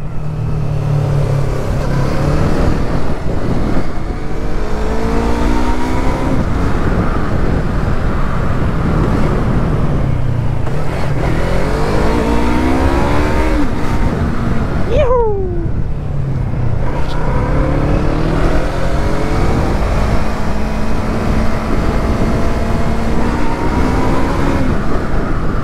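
Yamaha MT-03 motorcycle fitted with a GRS full exhaust, engine note loud and continuous throughout, with rising and falling revs as it accelerates and shifts, including a sharp rev sweep midway.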